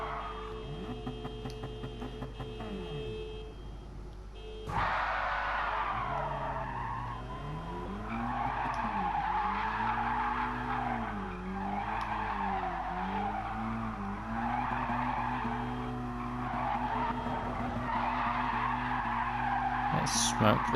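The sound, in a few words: tyre squeal and skidding from Mazda NR-A in a racing video game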